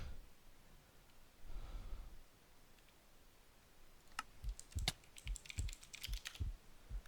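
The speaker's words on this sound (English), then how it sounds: "Fingers on keys." Fingers tap quick bursts of crisp, close clicks on computer keyboard keys in a quiet room, starting after a few seconds of soft breathing.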